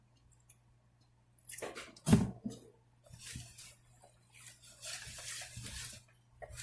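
Liquid pours in bursts into a Jamaican potato pudding mixture, splashing irregularly at close range over a faint steady hum, with a few soft clicks and pauses between pours.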